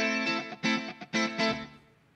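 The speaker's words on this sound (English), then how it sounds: "there's also chorus and a reverb" An electric guitar plays a few shimmering strummed chords with a wavering chorus effect and a reverb tail ringing out at the end.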